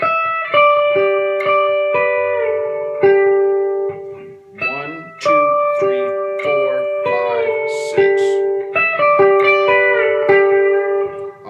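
A B-bender electric guitar plays a short phrase of sustained notes, some bending smoothly up in pitch, with a clean ringing tone and brief pauses between.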